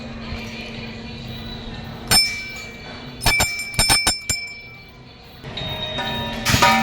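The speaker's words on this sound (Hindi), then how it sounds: "अभी तो मैं सिर्फ 1 घंटी बजाऊँगा।" A temple bell rings at the Khatu Shyam temple in Alipur, Delhi, with single clear metallic strikes and then a quick cluster of ringing hits whose bright tones hang on, over faint background murmur.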